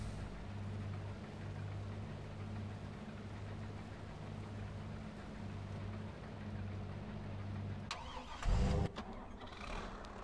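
A tractor engine in Farming Simulator 22 hums at a steady low idle, then a brief louder mechanical clunk and surge as it starts, with no talking.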